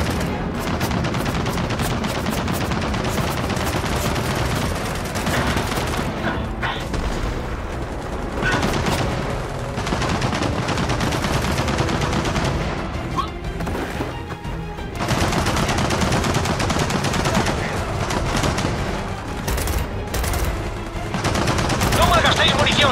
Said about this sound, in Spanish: ¡Nidos de ametralladoras!